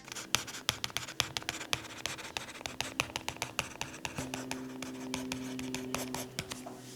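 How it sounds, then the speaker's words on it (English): Stylus writing on a reMarkable Paper Pro Move e-paper tablet, producing close, dry scratchy strokes and quick taps in an irregular handwriting rhythm, soft but distinct with faint hum beneath. "I love the scratchy sound on this tablet when I'm writing"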